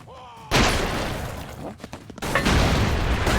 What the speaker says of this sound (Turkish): Yine füzeyle alıyoruz etrafa.